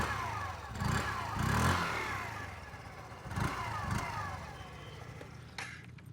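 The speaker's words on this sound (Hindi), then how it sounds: "if I sit on the scooter and if I start it, this is how the zoom sounds like" A Hero Xoom 125cc scooter idles with the microphone close to its exhaust, a low, uneven putter with a few short throttle blips swelling and falling back.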